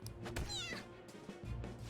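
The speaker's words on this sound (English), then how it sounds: "Will you shut up, you stupid cat?" A cat meows in Persona 5 Royal: one rising, wavering meow, loud and close, over game background sound.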